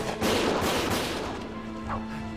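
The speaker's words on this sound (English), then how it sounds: "Gunfire!" A burst of loud video game gunfire from Valkyria Chronicles erupts at once and rolls into a dense, rumbling barrage that slowly fades. No voices are heard.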